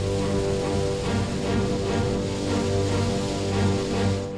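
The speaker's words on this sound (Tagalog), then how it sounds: "biglang bumuhos ang malakas na ulan" A sudden heavy downpour in Guiguinto, Bulacan, Philippines hisses continuously, a dense roar of rain with no voices.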